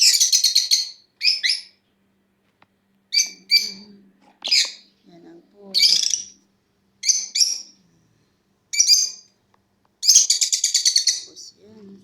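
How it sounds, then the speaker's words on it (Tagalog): Pet lovebirds chirp outside their cage in bright, rapid bursts of tweets spread across the clip, loud and close, with a few brief murmured words between calls. "Ang saya-saya ng aking ibon."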